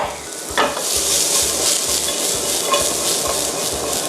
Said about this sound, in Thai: หลังจากนั้นมันมีน้ำมัน ติดอยู่ในนี้อยู่แล้วผมลง ฟินเนลต่อเลย